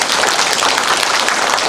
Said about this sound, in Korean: 다시 한번 더 쳐주세요.